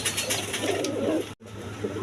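A pigeon coos repeatedly in low, throaty pulses over a steady background hum, close and continuous apart from a momentary dropout.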